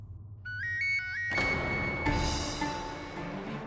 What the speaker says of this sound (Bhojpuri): एकरे घर से तो फोन भी आवता